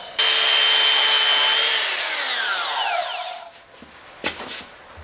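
A high-pitched power tool whines loudly as it cuts into an AR bayonet, its pitch sliding downward as the blade bogs and spins down, followed by a couple of brief clacks.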